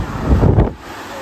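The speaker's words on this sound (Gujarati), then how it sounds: "હા, મસ્ત પવન આવે." Outdoor wind gusts against the microphone, producing a low rumbling buffet that swells briefly and then eases back to a softer steady rush.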